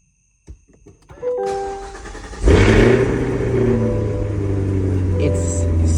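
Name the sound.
sports car engine starting and revving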